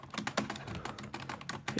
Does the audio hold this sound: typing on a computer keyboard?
yes